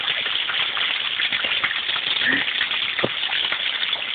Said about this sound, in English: It's the guttering not being able to cope with the rain.